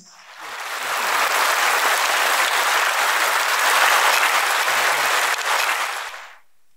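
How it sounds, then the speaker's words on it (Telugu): A large crowd breaks into loud, sustained applause to welcome a guest to the stage at a Kartheeka Pournami gathering in Nellore, swelling quickly, holding steady for several seconds, then fading out at the end. "with a big round of applause"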